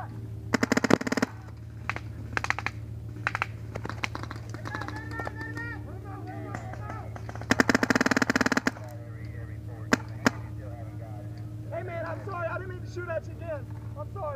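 Paintball guns fire during an outdoor paintball game, with bursts of rapid pops and scattered single shots over a steady low hum, while players talk and shout between the volleys.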